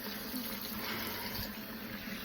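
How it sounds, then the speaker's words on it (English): A makeup brush is rinsed under running tap water, which pours in a steady, faint hiss for a couple of seconds with no talking. "Rinse it off."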